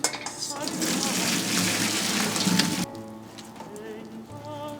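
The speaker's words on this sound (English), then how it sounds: "You're gonna take this, you're gonna drain the potatoes." Water pours from a pot of boiled potatoes into a drain, a loud, steady splashing rush for about three seconds that cuts off abruptly. Softer kitchen clatter and faint background sound follow.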